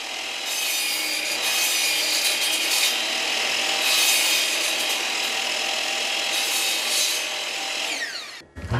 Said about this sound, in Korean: 굉장히 세밀하게 깎으시네요.